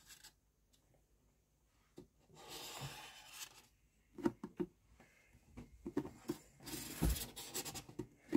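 A pen scratches around an upturned plastic bucket on cardboard, with intermittent quiet scraping strokes and small taps separated by pauses, close and soft.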